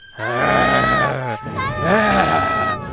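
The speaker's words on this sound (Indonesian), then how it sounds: "Mereka mulai berlarian, berteriak." Cartoon young goats screaming as they flee a wolf, two long, loud, high wailing cries with a short break between them, voiced by actors with no talking over them.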